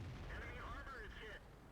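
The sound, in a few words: tank cannon shot in video game World of Tanks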